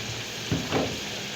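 Potatoes frying in a pan with salt and turmeric, a soft steady sizzle with two brief stirring scrapes near the middle, fairly quiet and close.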